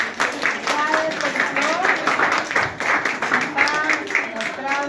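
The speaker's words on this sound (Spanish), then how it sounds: "fuerte las palmas para" Audience clapping after a student presentation on the Viceroyalty of Peru, with many hands applauding at a steady rate, while voices talk over the clapping.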